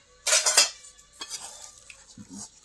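Jalebi and potato-pumpkin curry being served onto a plate at home, with a quick run of bright clinking and scraping of utensils against dishes, then lighter taps and a soft final clatter close by.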